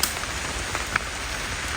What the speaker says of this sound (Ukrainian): зараз трошки нельотна погода, дощ іде